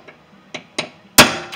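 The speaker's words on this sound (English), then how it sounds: "We're just going to take a punch and drive that thing in." Hammer blows on a metal punch drive a pin into the rear cargo door of a Ford E-Series van: three light taps, a pause, then one loud ringing strike and a final faint tap.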